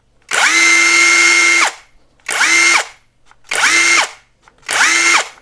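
KAMOLEE DTW500 cordless impact wrench spinning in reverse with no load, four loud sustained whirring bursts, the first longer, separated by short pauses, with no talk.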